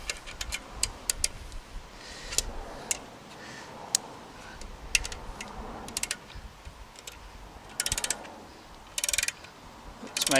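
A ratchet jacks up a Tesla Model Y with quick faint clicking in short bursts over a quiet outdoor background, close and with no talking.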